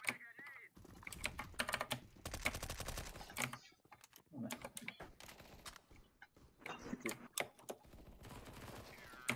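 Rapid bursts of gunfire in the video game Counter-Strike: Global Offensive, with repeated dense volleys in the first few seconds and again later, heard close and loud under intermittent talking.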